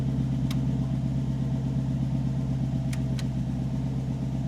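A 1948 Buick Super Woody Wagon engine idling steadily and smoothly at a moderate distance, with a few faint clicks over the low continuous rumble.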